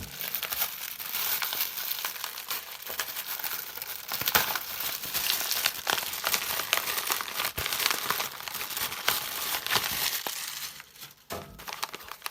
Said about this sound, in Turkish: onun paketi geldi bugün Çin'den. Şimdi onu açacağım.